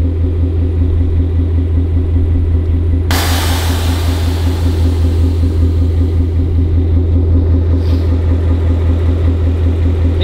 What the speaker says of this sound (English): I just bagged the car from my phone.